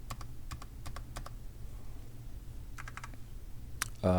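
Sharp keyboard key clicks in short clusters with pauses between, fairly close, over a low steady hum; a louder click lands near the end.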